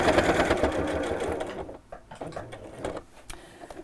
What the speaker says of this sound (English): I think all sewing machines will throb